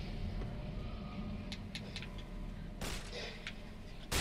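Shotgun blasts in F.E.A.R. 2, two loud sharp booms spaced apart over a low rumbling game backdrop, with a few quieter clicks and impacts between them.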